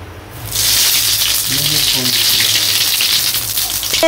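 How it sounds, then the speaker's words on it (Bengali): Cumin and radhuni seeds hit hot oil in a village wok for Eid pulao and meat, and a sharp, loud sizzle bursts up after a brief quiet start and carries on steadily, close by. "তেল গরম হয়ে গেছে, মানে জিরা আছে, রাঁধুনি সব আছে, তো দিয়ে দিই"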